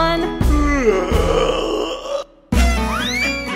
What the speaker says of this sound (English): give a yawn